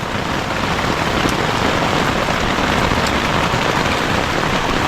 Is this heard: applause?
no